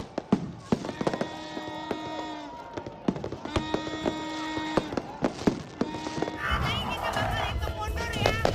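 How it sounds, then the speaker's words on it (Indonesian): New Year fireworks burst over Jakarta in a dense series of sharp bangs and crackles. Ringing tonal elements from musical fireworks sit under a steady crowd-like rumble. "Langit kota Jakarta dengan pesta kembang api"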